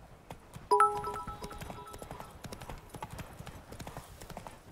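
Roach the horse gallops in The Witcher 3, a steady, rapid clip-clop of hooves that runs close and fairly loud throughout, with a brief tonal swell near the start.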